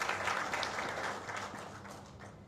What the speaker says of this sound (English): plus clap for him because he worked hard